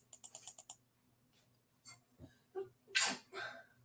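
A single sharp sneeze bursts out near the end, preceded by a quick run of light clicking taps and a few soft rustles.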